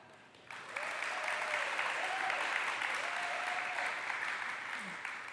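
Sustained applause from a graduation ceremony audience at a physical therapy awards event, a dense, steady wash of many hands clapping that swells in and holds for several seconds.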